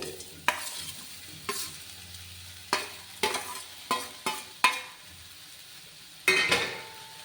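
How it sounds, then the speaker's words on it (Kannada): Chopped bitter gourd fries in a pan with an ongoing sizzle, broken by about eight sharp scraping stirs of a spatula at uneven intervals. No one speaks. "ಬಾಣಲೆಗೆ ಇದು ಹಾಗಲಕಾಯಿ ಹೆಚ್ಕೊಂಡಿದ್ದೀನಲ್ಲ, ಇದನ್ನು ಹಾಕ್ಕೊತೀನಿ."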